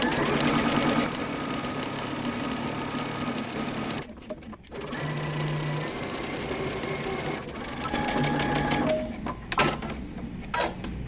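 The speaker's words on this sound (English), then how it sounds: "we're going to start stitching at the hem all the way up using 5/8 of an inch seam allowance" A sewing machine runs in long continuous bursts while stitching a pant leg seam from the hem upward, a fast steady mechanical whir with short pauses between runs.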